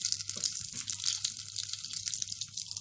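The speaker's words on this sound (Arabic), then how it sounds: "هننزل بقى بنص كوبايه من الحليب" Half a cup of cold milk poured into an orange basbousa cake batter, a steady soft hiss of liquid running without pause, close and fairly quiet.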